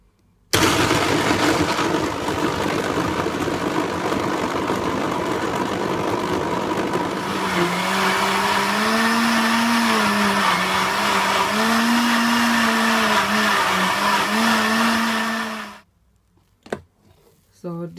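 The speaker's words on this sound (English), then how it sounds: "So I'm just gonna turn on my blender now." A blender whirs loudly and continuously while making cucumber juice, its motor pitch shifting as it churns, then cuts off abruptly, followed by a few faint clinks.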